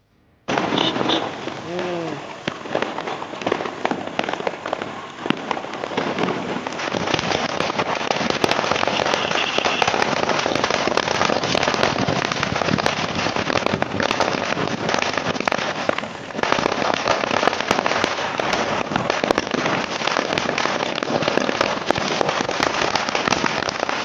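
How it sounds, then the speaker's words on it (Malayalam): A 5000-wala firecracker string set off during Diwali bursts without pause, a dense, loud, rapid crackle of pops lasting the whole stretch with no letup. "അങ്ങനെ ഫൈവ് തൗസൻഡ് വാല ഞാൻ വെച്ചുകൊണ്ടിരിക്കുകയാണ് നല്ല സൗണ്ട് അത് ഏകദേശം ഒരു രണ്ട് മൂന്ന് മിനിറ്റ് നിർത്താതെ പടക്കം പൊട്ടിക്കൊണ്ടേയിരിക്കും"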